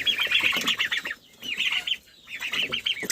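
Young Australorp, Cochin and mixed-breed chicks cheep close by in quick, high chirping bursts, separated by two short pauses.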